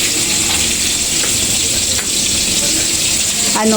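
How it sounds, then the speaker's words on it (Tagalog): Garlic, onion and tomato sauté with mung beans in a hot pan, giving a steady, close sizzling hiss that runs unbroken throughout with faint stirring scrapes. "nagisa ako ng bawang sibuyas kamatis guys dahil igigisa ko itong munggo na inano niya"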